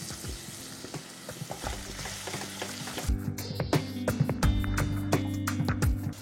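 Long-cut onions fry in a pan until brown, giving a continuous crackling hiss with scattered spatters and stirs, set under a sustained tonal background that grows louder halfway through.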